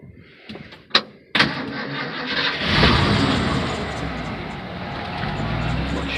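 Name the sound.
truck engine starting and running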